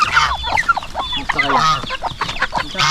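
Chickens cluck steadily inside a farm coop, several birds close by with overlapping, rhythmic calls and a few higher chirps.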